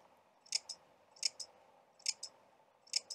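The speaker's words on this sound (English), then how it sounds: "oh, that's the sound of the scissors cutting." Scissors snip repeatedly in quick pairs, four double-snips spaced evenly, close and crisp over a faint background hum.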